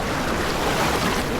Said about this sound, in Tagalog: Dade, ang lakas ng alon!